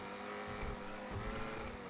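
Racing car in a video game, engine humming with tire squeal and skid noise, quiet and continuous throughout.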